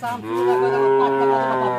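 A single long, deep cow moo, close and loud, held steadily for nearly two seconds.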